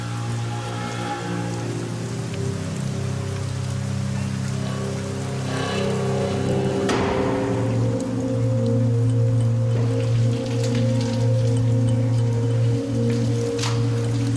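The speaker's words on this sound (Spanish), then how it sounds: "Estaba lloviendo a cántaros" Heavy pouring rain in Mexico, a constant broadband hiss of downpour blended under a loud, steady low tonal hum that runs throughout, with no talk.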